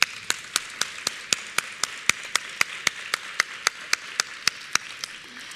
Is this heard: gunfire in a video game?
no